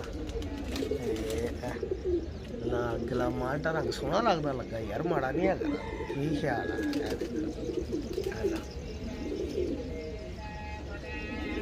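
Pigeons coo repeatedly beneath steady, close conversation among men, the soft throaty calls rising and falling throughout, with occasional chirps mixed in.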